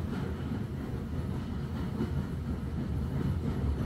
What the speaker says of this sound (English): As you listen to the Hogwarts Express.